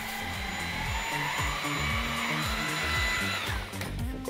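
A Dreame V11 cordless vacuum runs at minimum speed with its brush head on a carpet, a steady high motor whine over a rhythmic thumping as the brush is pushed back and forth, close by.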